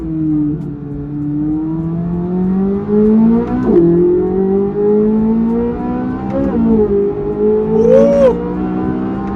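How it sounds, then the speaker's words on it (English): A Corvette Z06 naturally aspirated V8 revs toward 8600 RPM, heard close and loud as the engine pitch climbs steadily, drops briefly at two gear shifts, then pulls up again. "This car sounds so good."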